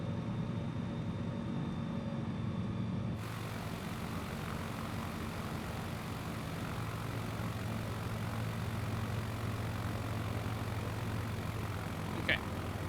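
An aircraft engine drones at a steady, faint hum in the Microsoft Flight Simulator 2020 video game, with a brief click near the end.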